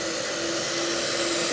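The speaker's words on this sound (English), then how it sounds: "You can tell the vacuum is sucking and the water is nice and hot" A carpet extractor vacuum sucks hot water through a car's interior upholstery, a steady close whooshing roar with a constant whine, unbroken and even throughout.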